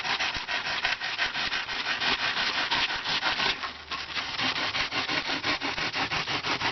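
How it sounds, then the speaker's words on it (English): A hacksaw cuts slowly through insulation board, giving a close, continuous rasping of back-and-forth strokes with a brief pause in the middle, and no talking. "I found a nice way to cut this stuff with a hacksaw. Very slow and easy."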